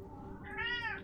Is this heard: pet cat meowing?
yes